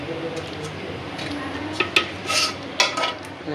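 Spoon scraping and clinking against a pot while chicken biryani with potatoes is stirred, a few sharp metallic knocks over a soft background hiss.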